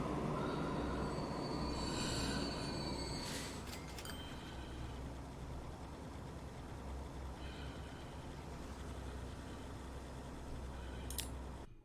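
A freight train in the video game Transport Fever 2 rumbles steadily along the track with screeching, squealing wheels that rise in a few sharp bursts over the continuous rolling noise.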